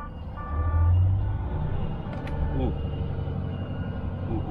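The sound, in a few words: Volvo FH16 550 truck reversing with reversing beeps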